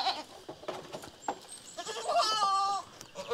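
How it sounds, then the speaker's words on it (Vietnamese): A goat kept temporarily in a chicken coop bleats several times at close range, short wavering cries among faint farmyard rustling and soft background voices. "thế là con dê chị nhốt ở chuồng gà này à?"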